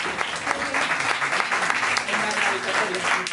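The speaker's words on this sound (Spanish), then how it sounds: "Nos despedimos con un aplauso a David y muchas gracias por venir." Lively audience applause closing a public science talk, steady dense clapping with a voice or two audible underneath, fairly close and moderately loud.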